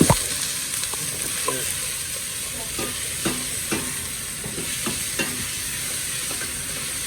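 A spoon stirs seasoned curry in a hot pot, with a steady sizzle and frying under a run of scraping strokes. It sounds close and moderately loud, and no one talks.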